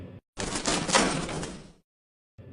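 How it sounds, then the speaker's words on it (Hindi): A cage door in an animation slides and shuts with a single broadband rattling scrape lasting over a second, set between brief bits of other sound, with no talk. "पिंजरे का दरवाजा बंद हो जाता है और वो उसमें फंस जाता है"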